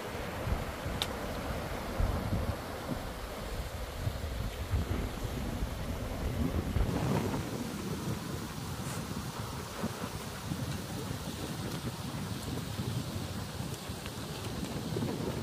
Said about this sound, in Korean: 흰 눈으로 덮인 계곡에는 맑은 물이 물소리와 함께 힘차게 흐르는 것이